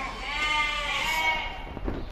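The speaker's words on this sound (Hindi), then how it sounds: "सिंधी के कुछ बकरे भी है" Sindhi goats at the Deonar livestock market in Mumbai: one long, loud, wavering bleat close by, lasting nearly two seconds over a busy market background.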